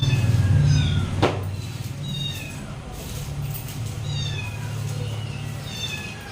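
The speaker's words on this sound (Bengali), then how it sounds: "সেই বাচ্চাগুলোই মিউ মিউ করে ডাকছে।" A small litter of two or three kittens born beside a house mew in thin, high, repeated cries over a steady low background hum.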